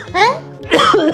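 A voice imitates a man's cough with two rough, throaty bursts in quick succession, loud and close, the second longer and harsher than the first.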